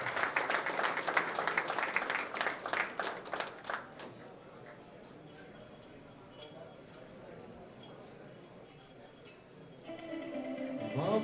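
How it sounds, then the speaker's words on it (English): Applause for junior powerlifters in the 83 kg classic division at a world sub-junior and junior championship, dense clapping for about four seconds, then a quiet hall with some murmur before a fresh burst of noise near the end. "Round of applause for all the athletes competing today in the 83 kilo juniors division."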